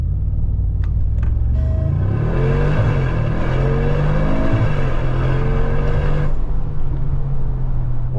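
A 2025 Mercedes G63 AMG's V8 engine roars loudly and rises in pitch as the SUV accelerates hard from a drag race start, shifting gears with a deep, sustained rumble throughout.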